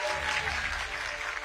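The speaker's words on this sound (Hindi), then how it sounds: "पंडित धीरेन्द्र शास्त्री जी का जोरदार तालियों से स्वागत" A brief burst of applause from an event audience greeting Dhirendra Shastri on stage, thick steady clapping at close, loud level for about a second and a half.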